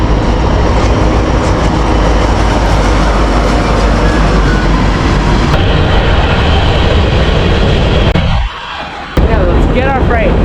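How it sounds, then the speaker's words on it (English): A freight train passes close by on a greenway trail, a loud continuous rumble with rail clatter that holds steady, dipping briefly near the end before resuming. "The train's finally on its way, so here it comes."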